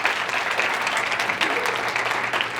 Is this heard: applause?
yes